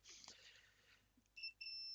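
A multimeter's continuity test gives two short, thin, high electronic beeps near the end, the second slightly longer, faint and close, after a brief hiss of handling noise.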